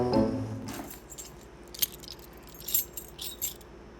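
Keys jangling on a keychain, several faint, scattered metallic jingles and clinks against a quiet room background.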